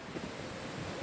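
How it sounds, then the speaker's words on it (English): Strong wind buffets the microphone on an outdoor golf course, a dense, continuous roar with no talk. "right into the wind. Very strong wind."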